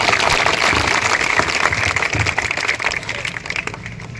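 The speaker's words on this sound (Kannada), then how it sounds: "ಅವ್ರಿಗೆಲ್ಲ ನೀವು ಜೋರಾಗಿ ಚಪ್ಪಾಳೆ ಹೊಡೆಯೋದ್ರ ಮುಖಾಂತರ" Audience applause at a community gathering in Hubballi honoring police officials, a dense sustained wash of clapping filling the whole stretch, steady and fairly loud with slight easing near the end.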